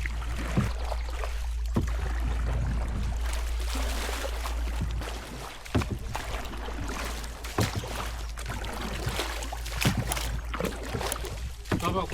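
Steady rumble of a boat moving across water at Kitale Nature Conservancy, Kenya, with continuous wash and wind noise and a few sharp knocks, voices faintly mixed in.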